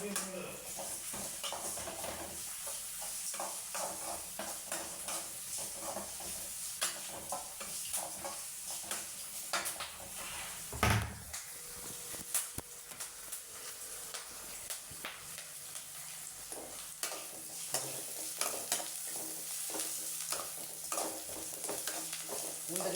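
Green chili, onion, pepper, cumin and ginger frying in oil for venpongal, with a soft continuous sizzle under frequent spoon scrapes and taps against the pan, one louder knock midway, and a voice talking now and then.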